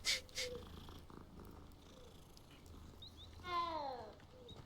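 Cat purring while being petted in the video game Hogwarts Legacy, a soft low rumble running steadily throughout, with a few brief chirpy game sounds and a short birdlike call near the end.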